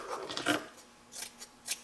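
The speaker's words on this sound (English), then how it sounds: "Okay, so now let me cut off my excess here." Scissors snip off excess fabric from a sewn ladies' top, several quick close crisp cuts in a short burst with no talking.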